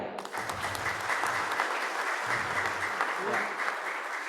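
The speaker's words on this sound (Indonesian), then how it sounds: "kemudian kita tepuk tangan" A Salvation Army congregation in Bandung claps during a Sunday holiness service. Sustained, lively applause from many people continues for over four seconds, with voices faintly mixed in beneath it.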